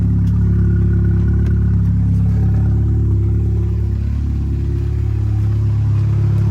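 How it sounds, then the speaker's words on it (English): A car engine running loud and close with a low steady drone and a faint rattling chatter from the clutch, no voices. "this does have a little bit of chatter, which is quite normal for this clutch"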